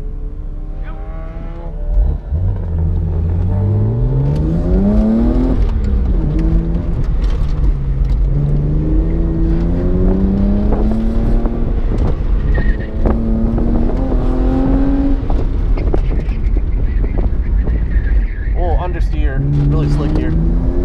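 BMW 128i pushed around an autocross course, its engine revving up and down through gears with rising and falling pitch, loud and close from inside the car, while a driver talks over it.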